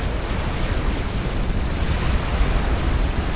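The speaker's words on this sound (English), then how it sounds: "I don't think that they're going to get out of the way of that nuke." A nuclear blast rips through a dense cluster of battleships in the strategy game Supreme Commander, a continuous roaring rumble that stays loud and heavy with deep low-end for the whole stretch.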